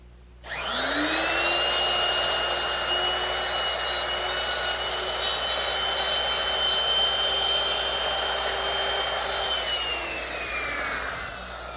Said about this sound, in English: clamp it down, and I'll just run the router through it